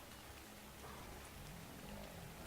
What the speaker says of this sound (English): Really foggy, rainy right now.